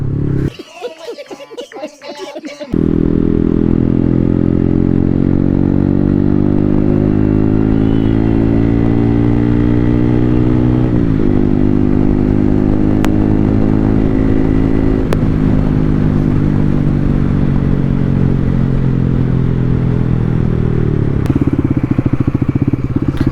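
A motorcycle engine starts after a moment and then runs loud and close at a steady drone while riding, its pitch rising and falling slightly with throttle changes.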